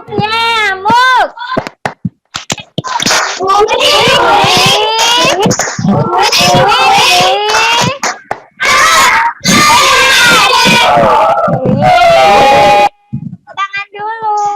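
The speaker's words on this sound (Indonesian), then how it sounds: "Ibu mau mengajak anak-anak untuk tepuk nyamuk." Schoolchildren in a classroom perform the 'tepuk nyamuk' clapping chant, loud and close, with bursts of sharp hand claps mixed into shouted, sung children's voices and a teacher leading, ending with a brief pause and a final flurry.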